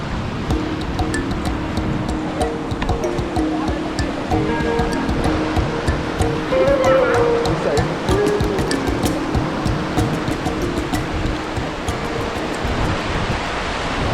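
Rushing water of Parawiyan Ella waterfall in Sri Lanka pours steadily over rocks, a loud continuous roar filling the whole stretch, with faint chirps of birds now and then above it.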